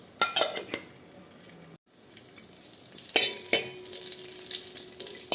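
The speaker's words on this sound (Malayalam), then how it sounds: "ഇതിലേക്ക് അണ്ടിപ്പരിപ്പ് മുന്തിരിയിട്ടൊന്ന് ഫ്രൈ ചെയ്തെടുക്കാം" Cashews and raisins fry in ghee in a pan, with a steady soft sizzle under close metallic clinks and scrapes of a utensil against the pan, briefly cut by a short gap.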